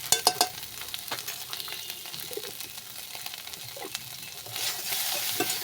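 Spices with salt and turmeric fry in a pan with a continuous hiss, punctuated by a few loud scraping stirs early on and a fuller sizzle swelling toward the end.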